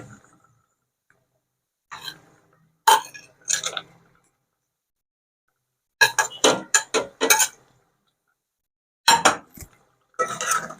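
Boiled egg pieces go into a stew sauce with sharp, clustered clinks and taps of a utensil against the pan, coming in short bursts separated by silence and close to the listener.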